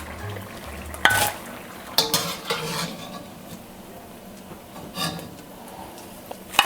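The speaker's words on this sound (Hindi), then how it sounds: "तो अब मैं इसे डिश आउट करती हूँ" Fried keema spring rolls lifted out of a pan, with a soft background sizzle, a few sharp clinks of a utensil against cookware and scattered scraping sounds, close up and with no talking.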